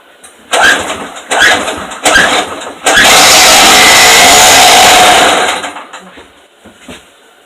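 A Stark generator engine is pulled three times with short sputters, then catches and runs loudly and steadily at close range for a few seconds before dying away.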